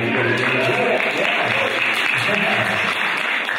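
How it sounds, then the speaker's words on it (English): A crowd at a financial wellness event claps loudly and steadily for the San Diego County Credit Union, a dense sustained wash of applause throughout. "People are clapping for San Diego County Credit Union."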